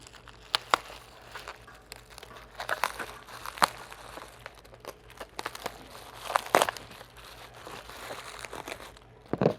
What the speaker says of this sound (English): Let's go ahead and unwrap this guy.